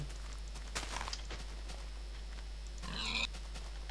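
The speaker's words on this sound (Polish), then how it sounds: "Świnia." Pig grunting in the Minecraft video game, a short burst of oinks near the end after faint footstep-like pattering in a grassy meadow biome, fairly quiet overall.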